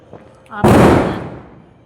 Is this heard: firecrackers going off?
yes